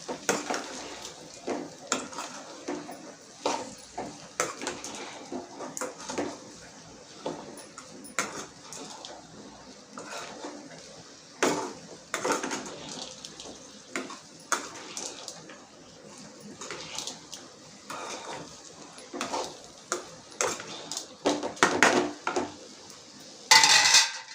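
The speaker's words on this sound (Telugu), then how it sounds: "మనము కట్ చేసుకున్న క్యారెట్ని వేసుకుని బాగా నీళ్ళగా మిక్స్ చేసేసుకోవాలి" A spoon stirs cut carrots into fried onions in a cooking pan, producing irregular metallic clinks and scrapes that come in short bursts throughout, fairly close and moderately loud.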